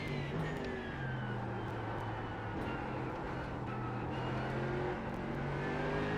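Racing car engines in a video game set at the Spa circuit, a steady drone of motors with rising pitch lines as cars rev and pass, continuous and moderately loud with no talk.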